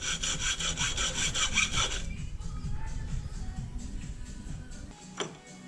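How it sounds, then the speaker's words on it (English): A hacksaw cuts through a Porsche 968 front strut with steady, rapid back-and-forth strokes for about two seconds, then the rasping turns rougher and quieter as the cut finishes, ending with a brief metallic clank. "The hacksaw finishes off the job."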